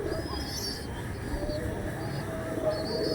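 Andhra pigeons cooing, several low soft coos and a few chirps, near and moderately quiet over a steady background rumble.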